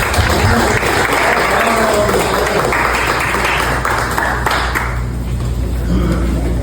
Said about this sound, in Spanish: Vamos a dar un aplauso a Rolando.